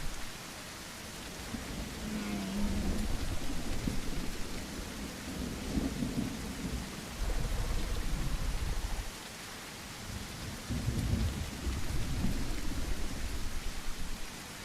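In The Isle, a constant rain hiss fills the scene as low thunder rumbles surge up several times, each swell lingering for a few seconds before settling back into the downpour, with no talking.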